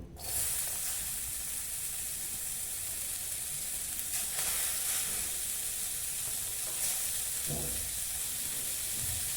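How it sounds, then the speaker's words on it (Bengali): Steady sizzling from onion frying in a hot pan over low flame, a continuous hiss that runs throughout with no voices. "আমি সেখানে পরিমাণ মতো আমি পেঁয়াজটা অল্প গরম করে নেব।"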